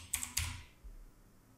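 A few quick computer keyboard keystrokes, faint and close, clicking in a short burst before quiet room tone.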